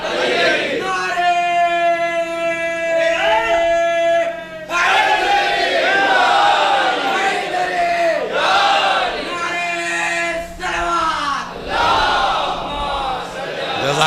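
A large gathering at a Shia majlis chants religious slogans in unison, loud massed voices swelling in call-and-response bursts with brief pauses between, a sustained low hum running underneath.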